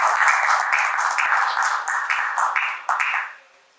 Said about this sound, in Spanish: Así que lo recibimos con fuerte voto de aplausos a Luis Miguel Castilla.